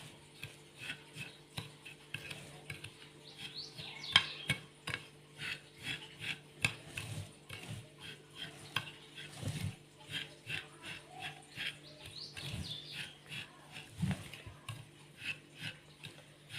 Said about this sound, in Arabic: غادي ندخل هاد الزبده في هاد البسكوي